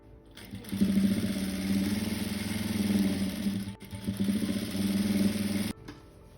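A sewing machine stitches lehenga frills in a steady rattling run, pausing briefly midway before resuming, then stopping abruptly.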